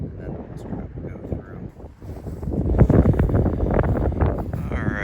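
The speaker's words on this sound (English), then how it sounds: "It's very windy this morning, a little sprinkle of rain" Gusty wind on a rainy morning buffets the microphone with low rumbling blasts that swell louder partway through.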